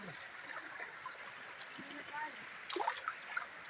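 Water trickles and splashes in a shallow stream as feet are rinsed, with soft intermittent splashes and a brief louder burst near the end, recorded close and fairly quiet.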